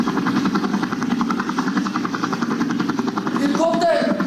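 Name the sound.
helicopter approaching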